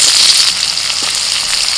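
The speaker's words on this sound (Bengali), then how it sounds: "পেঁয়াজ ভাজা হয়ে গেছে" Chopped onion frying in oil makes a loud, dense, continuous sizzle with fine crackling spatter, close to the pan and steady throughout.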